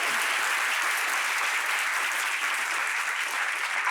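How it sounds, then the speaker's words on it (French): Loud, sustained applause from a studio audience on a French-language Ivorian talk show, steady clapping filling the whole stretch without a break. "C'est bien noté, on l'applaudit très fort."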